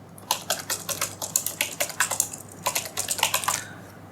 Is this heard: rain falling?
no